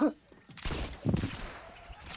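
Video game gunfire cracks out in short bursts at moderate volume, with voices talking in the background.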